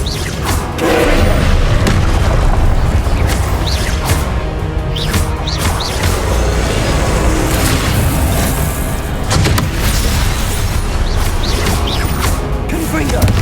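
Repeated blasting-spell explosions from the fantasy game Hogwarts Legacy, loud booms and crashes with whooshing spell casts layered over dense continuous battle noise throughout.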